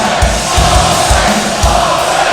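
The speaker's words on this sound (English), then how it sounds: "You hear the crowd chanting for him" A wrestling arena crowd chants in a loud, rhythmic pulse for the winning wrestler, the voices merging into a dense roar with regular beats.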